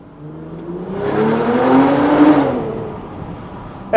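A tuned BMW G05 X5 45e plug-in hybrid with a Stage 1 ECU and OPF delete accelerates inside a tunnel, its engine note climbing in pitch with an echoing roar that swells and then fades back.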